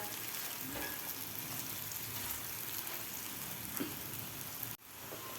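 Moong dal vadi frying in a pan, a steady dense sizzle with soft crackle running throughout, loud and close, with a brief dip near the end and no voices.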